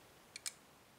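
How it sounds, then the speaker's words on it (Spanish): Two faint, tiny clicks sound in quick succession as a FIAM cross lock rotor is picked, close up against a quiet background with no talking. "Segundo, un clic."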